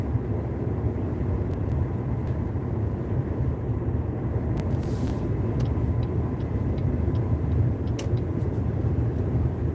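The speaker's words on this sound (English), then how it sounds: "right now it's like crazy wind" Strong wind buffets a car while driving on an open road, a constant loud low roar of rushing air and road noise inside the cabin with a few faint clicks and knocks.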